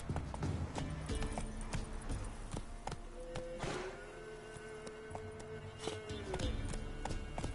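Roach, a horse in The Witcher 3 video game, gallops with steady rhythmic hoofbeats set against game ambience and music, the clip-clop close and continuous throughout.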